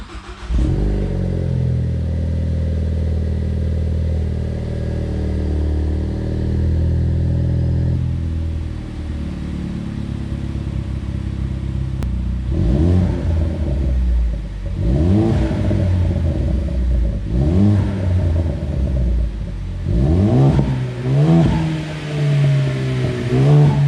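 A 2013 Ford Focus ST fitted with an MBRP exhaust idles with a deep rumble, then gets blipped repeatedly, producing a series of sharp rising-and-falling revs close to the microphone with no talk.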